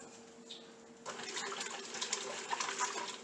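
Cold tap water runs while butter is being washed in a kitchen, starting abruptly as a steady, close splashing rush that continues to the end.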